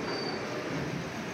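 A train running on a Konkan route near Ratnagiri railway station gives a steady rumble of wheels on track with faint squealing, heard from on board.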